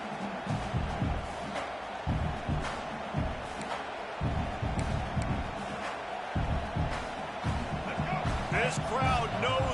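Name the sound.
stadium crowd cheering in a football video game (Madden)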